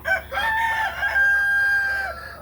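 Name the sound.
chicken, gray or blue splash farm mix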